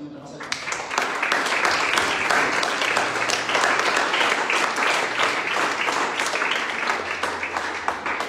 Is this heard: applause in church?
yes